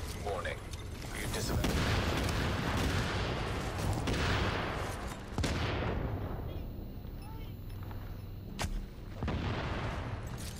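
Booming grenade blasts and rumbling gunfire in Tom Clancy's The Division, loud and dense throughout with several sharp impacts, including a crack near the end.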